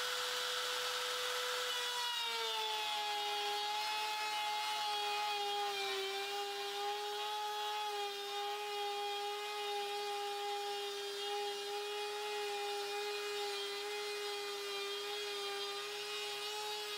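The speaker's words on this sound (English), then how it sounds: "I'm cutting a 20 mm wide slot, 10 mm deep into a piece of particle board." A Makita router cuts a 20 mm wide, 10 mm deep slot in particle board with no dust collection, a loud, steady high whine that drops slightly in pitch as the bit bites in, then holds for the whole stretch.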